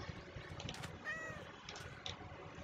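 A cat meows in the Minecraft video game, with a few short, clear mews over a faint game background and no talking.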